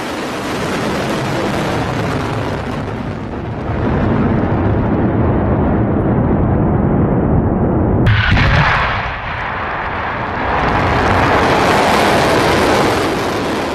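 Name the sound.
Iranian missile explosions striking Israel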